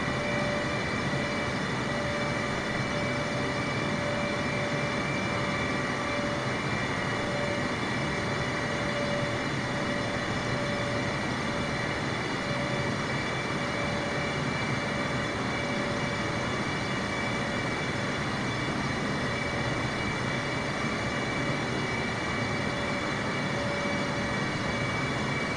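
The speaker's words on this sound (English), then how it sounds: "Oh, he has applied some engine power again," A steady aircraft engine drone in Microsoft Flight Simulator, a continuous broadband roar with faint constant tonal whines, unchanging in loudness across the whole stretch with no voices.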